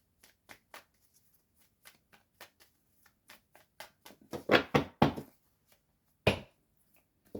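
Playing cards being shuffled by hand in a series of crisp riffling bursts, sparse taps early then a denser flurry of shuffles, close and fairly quiet with no talking.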